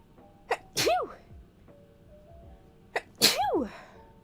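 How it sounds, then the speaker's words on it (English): Two loud sneezes a few seconds apart, each starting with a sharp inhale and ending in a falling vocal burst, close to the listener. "I'm gonna sneeze."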